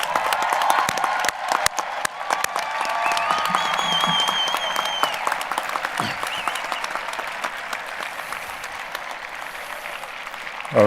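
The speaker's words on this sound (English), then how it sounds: "Let's give them a round of applause" A crowd at a high school graduation ceremony gives a sustained round of clapping for the class of 2020, loud at first and gradually thinning, with scattered cheers and whoops rising above the applause.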